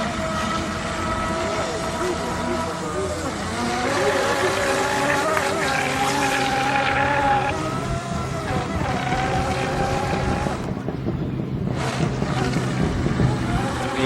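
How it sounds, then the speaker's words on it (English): A BMW car crossing a bridge, a steady engine and tyre rumble with a rising then falling pass-by sweep, mixed with outdoor drone from nearby boat propellers. "BMW coming across the bridge, I almost thought, was this thing making that noise?"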